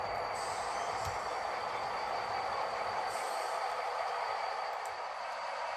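Steady rolling rumble of model train cars being switched in a yard, with faint squeals of wheels and a few light clicks, continuous and fairly quiet.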